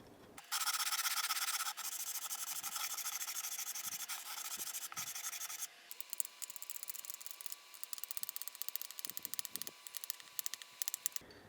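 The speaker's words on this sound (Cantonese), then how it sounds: "我就用個長條形嘅 sanding block， 咁我上面黐咗呢個320號砂紙，" A 320-grit sanding block rubs across guitar frets during fret levelling, giving a steady close scraping hiss that later breaks into quick repeated strokes.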